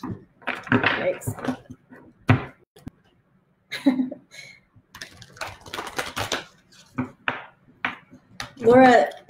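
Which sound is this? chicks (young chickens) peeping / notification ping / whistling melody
notification ping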